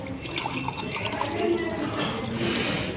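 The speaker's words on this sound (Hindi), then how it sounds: "मैं फिर से ये दोनों ही ग्लास में पानी भर रहा हूं" Water is poured from a tap into two drinking glasses in turn, a steady hissing trickle that carries on without a break, fairly faint, with no voices.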